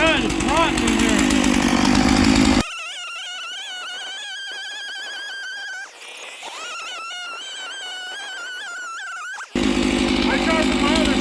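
A saw rasps loudly through rotten wood in close bursts at the start and end, with a person talking in between.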